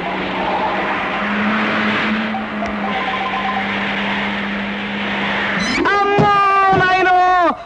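A car skids, its tyres squealing in a long rising screech over a steady engine drone, and the crash hits near the end. Voices can be heard shouting in the background.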